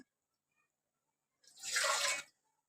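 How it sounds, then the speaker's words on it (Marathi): Water poured from a small bowl, ready to be boiled for a Konkan rice noodle (shirwale) dough, lands in one short splashing burst of under a second, close by and fairly loud, with silence around it. "वाटीने मी पाणी घेणार आहे"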